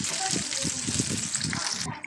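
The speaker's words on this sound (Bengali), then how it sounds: "একটু ভেজে নেব, হালকা পুড়ে না যায় সেদিকে খেয়াল রাখতে হবে" Spices with white mustard paste fry briefly in a pan for a tangy-spicy mango pickle, a close, steady sizzle with faint scraping, lasting only a couple of seconds.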